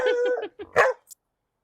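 A single dog gives a few short, close barks and yips, with brief gaps of silence in between.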